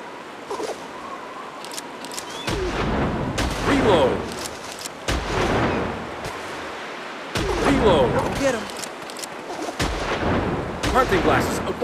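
Shotgun blasts fire at pheasants in the Wii hunting game Pheasants Forever, several loud bursts spaced a few seconds apart over game ambience, with a voice speaking between shots.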